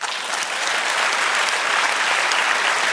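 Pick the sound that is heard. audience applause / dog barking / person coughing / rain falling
audience applause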